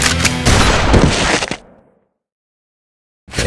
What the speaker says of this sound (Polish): Wydaje mi się, że słyszałem strzały.